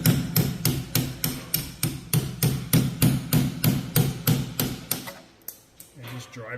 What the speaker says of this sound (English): let me just get a hammer and punch and knock that through